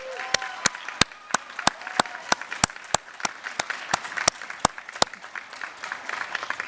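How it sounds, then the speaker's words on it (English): An audience applauds at a 2021 nursing commencement and pinning ceremony: steady, dense clapping from a large crowd filling the hall throughout, with sharp regular clicks cutting through. "give those individuals that are here with you tonight a big round of applause"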